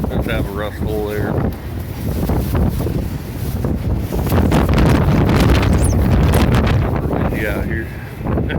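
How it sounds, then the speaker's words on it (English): Heavy wind gusts batter the microphone in a constant loud rumble, with someone talking briefly near the start and end. "Windy as crap out here."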